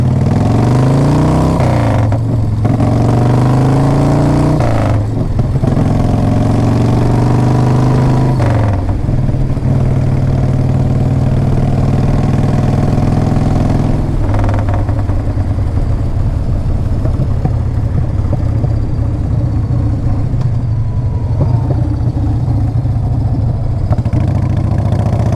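A 1994 Harley-Davidson Fat Boy motorcycle engine cranks over a few times in short bursts and then catches, settling into a loud, steady, lumpy idle close by with no talking.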